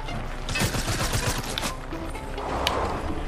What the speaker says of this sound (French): je vois pas où ça tire.